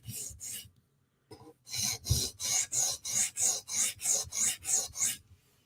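A Tanto-style M4 PM2 knife blade rasps along a sharpening stone in a steady run of about ten even, close strokes after a few isolated passes, with no talking.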